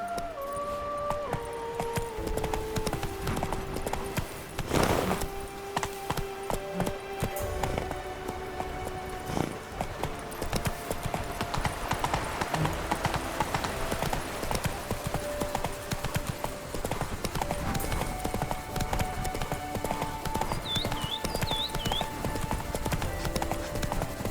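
Roach the horse galloping in The Witcher 3, steady rapid clip-clop hoofbeats running continuously and close, with game music and occasional effects underneath.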